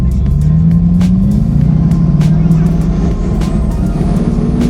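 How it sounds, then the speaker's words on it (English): Bugatti sports car driven hard on an open road, its engine and turbo droning loudly and steadily from inside the cabin, pitch climbing as it accelerates, with wind and road roar throughout. "it sounds so good. Just straight turbo noise"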